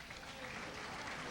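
A crowd at a 1983 boys' bowling handicap final applauds a young bowler, a faint steady patter of clapping from a distance, with a voice speaking over it.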